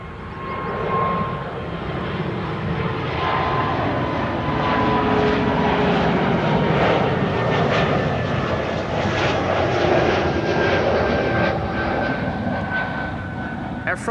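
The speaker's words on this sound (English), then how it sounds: "Air France A220 on its way to Paris" Air France Airbus A220 airliner at Amsterdam Schiphol, its engines producing a loud, steady roar that holds for the whole stretch with a slowly shifting whine, heard alone without talk.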